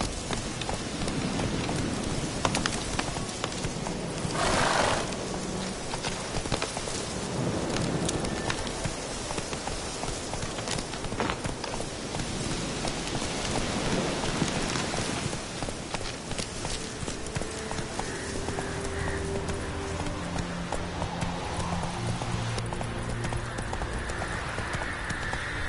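Roach the horse galloping through rain in The Witcher video game, a steady run of hoofbeats under a constant wash of rainfall, loud and busy throughout, alone without speech.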